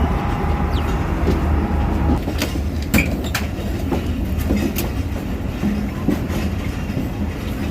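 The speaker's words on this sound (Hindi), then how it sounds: "मेरी ट्रेन चल पड़ी है" A passenger train pulls out of Multan city and rolls on with a steady rumble, rhythmic clickety-clack and occasional sharp metallic clanks and squeals. The sound is heard from inside the carriage, continuous and moderately loud.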